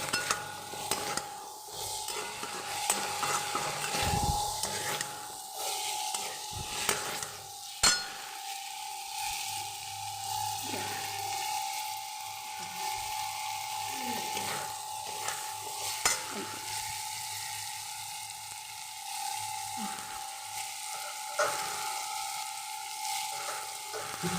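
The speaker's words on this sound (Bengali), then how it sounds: "পুরো জিনিসটা খুব ভালো করে কষিয়ে নিতে হবে।" Chicken keema with peas and potato pieces sautéing in a pan, giving a continuous bright sizzle broken by the irregular scrape and clink of a stirring spoon, close and steady, with no voices.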